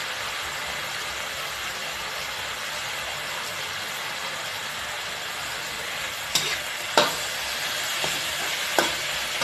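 Chinese kale and marinated pork stir-fry in a wok, giving a steady loud sizzle with a few sharp scraping clatters of the utensil near the end.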